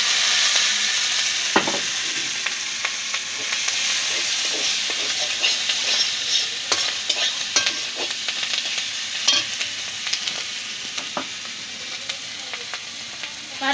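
Steady close sizzle of green chilies and salt frying in hot oil for a hilsa fish head and greens dish, a continuous hiss with scattered crackles and pops throughout, no voices.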